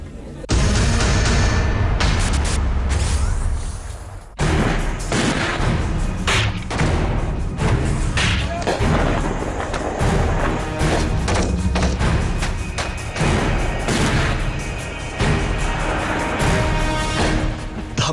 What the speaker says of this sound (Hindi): गोलीबारी की आवाजें, जमींदोज होती पाकिस्तान की पोस्टें